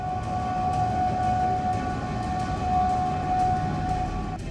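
A steady, wailing security siren sounds over Baghdad after a rocket attack on the Green Zone, a sustained tone heard from a distance over a constant rumbling background.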